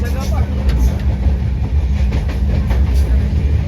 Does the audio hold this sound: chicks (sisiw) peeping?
no